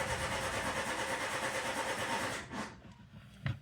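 A car engine cranking during diagnostic testing, a steady rhythmic churn for about two seconds, then stopping, with a brief knock near the end.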